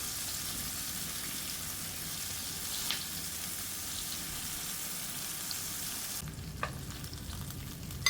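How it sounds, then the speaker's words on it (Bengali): Garlic, tomato pieces and onion fry lightly in a pan with a steady soft sizzle, a few stirring scrapes and clinks rising near the end. "এখন এই 3টি উপকরণও হালকাভাবে ভেজে তুলে নিব।"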